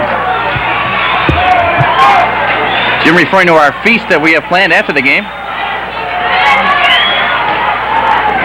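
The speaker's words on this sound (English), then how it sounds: "Majority of the crowd on their feet now." A 1984 high school football crowd roars and cheers in the stands, loud and sustained, with whoops rising over it while someone talks clearly over the noise in the middle.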